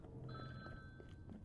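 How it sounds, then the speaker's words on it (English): A telephone rings faintly within a video game, a steady tonal ring sitting over a quiet background rumble. "Wait. Oh, is that a phone?"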